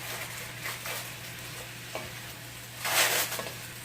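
Steak strips sizzle steadily in a pan as they are stirred, with scraping strokes and a brief louder burst of hissing toward the end.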